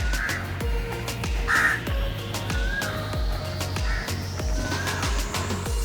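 Crows caw loudly and repeatedly nearby on an elevated nature trail in Mumbai, harsh calls coming one after another over a steady low rumble and hum.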